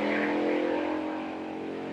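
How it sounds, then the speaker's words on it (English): A loud motor vehicle engine roars close by and then fades slightly as it passes, with a steady droning tone. "Did you hear that motorcycle?"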